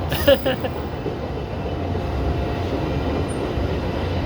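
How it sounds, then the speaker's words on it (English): An outbound passenger train rumbles past steadily at moderate distance, a low continuous roll of wheels on rails with a faint squeal; no voices. "That is an outbound train, of course."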